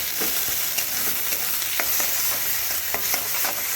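A spice paste is stirred into a frying pan of hot oil with cumin and a whole dried red chilli while making gourd leaf bharta. Close spatula scrapes and stirring strokes sound over a steady sizzle, with no talk.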